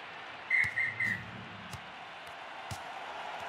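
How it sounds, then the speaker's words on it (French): In the Rugby 18 video game a referee's whistle sounds three short, sharp blasts in quick succession for full time, then fades to a low murmur of crowd ambience. "Coup de sifflet final."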